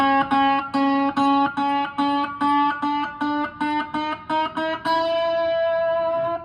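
Distorted electric guitar, played on a four-string cigar box guitar, plays a run of short, separate slide notes in a steady rhythm, ending on one longer sustained note.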